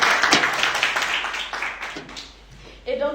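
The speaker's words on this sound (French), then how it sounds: "vous pouvez applaudir pour remercier le Seigneur" Church congregation applauding during a Sunday service, a dense burst of clapping that fades away over a few seconds before a voice starts speaking.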